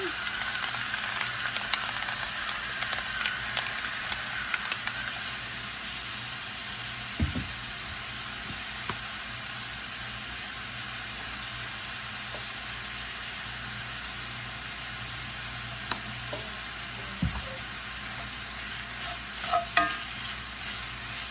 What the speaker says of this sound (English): we're just going to chop this up, brown it up